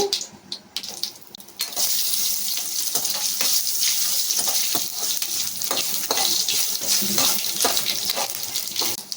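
Tempering seeds, curry leaves, dried red chillies and garlic crackle in hot oil for a red chilli pickle, a quiet start giving way to a loud, continuous close sizzle with sharp popping spurts.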